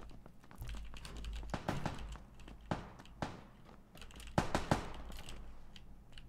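Distant gunfire in PUBG, a scattered series of sharp cracks and short bursts aimed at the players, with a low game hum underneath.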